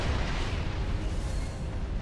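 Exploding starships in the space combat game Star Trek Online give a sustained deep, rumbling blast that stays loud and dense for its short span, with no voices present.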